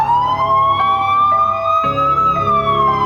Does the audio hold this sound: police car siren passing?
yes